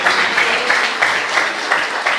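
Church congregation clapping together, a loud, dense wash of many hands with slight rhythmic swells, continuous and close, nearly free of voices.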